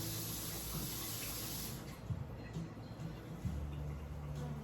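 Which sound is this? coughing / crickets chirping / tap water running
tap water running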